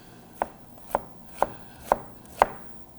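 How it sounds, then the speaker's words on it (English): A knife slices an onion on a cutting board in five evenly spaced, crisp chops about half a second apart, close up, with no one talking. "we're gonna slice this onion"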